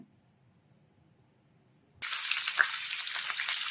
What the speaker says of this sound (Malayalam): ചൂടായ ഓയിലേക്ക് സബോള കൊടുക്കുന്നുണ്ട്